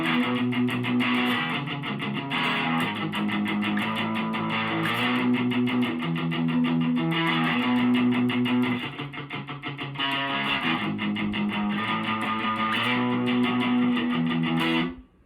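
Electric guitar with light distortion playing the riff as power chords, steady chugging rhythm repeated twice, loud and up close, ending abruptly near the finish.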